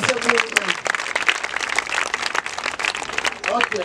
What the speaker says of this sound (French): Bravo. Applaudissez-vous.